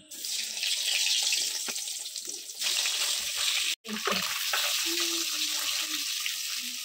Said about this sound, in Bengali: আলু ভেজে নিয়েছিলাম, ওই তেলেতেই ডিমটা ভেজে নিচ্ছি।